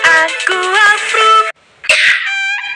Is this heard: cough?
yes